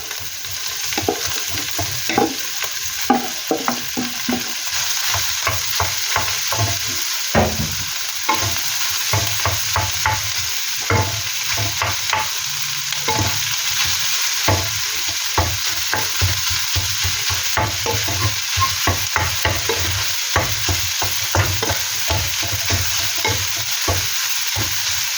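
Cooked rice stir-fried with seasoned meat in a hot pan for chao fan, steady sizzling under repeated scraping and tapping strokes of a spatula, close and continuous with no talking.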